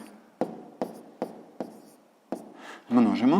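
Pen strokes scratch out numbers by hand for a column multiplication exercise in a sixth-grade math lesson, with about six short, evenly spaced scratches close up before a voice starts speaking at the end.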